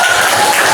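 Applause from a class of students in a school lesson, a dense, steady wash of many hands clapping at once, close and loud for under a second with no voices on top.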